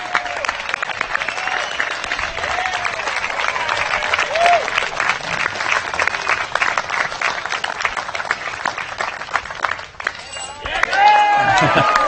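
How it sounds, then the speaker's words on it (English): Spectators applaud loudly at a professional disc golf tournament, the 2017 Vibram Open, clapping and cheering for a player's drive. A commentator talks over the sustained outdoor applause, which swells again near the end. "And Gregg Barsby with a roarous applause."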